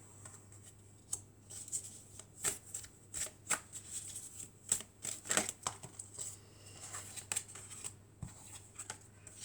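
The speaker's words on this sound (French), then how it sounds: "On va mélanger encore un peu," Tarot cards shuffled by hand in a quiet room, giving a run of crisp riffling slaps and flutters that come in irregular bursts, close and fairly soft.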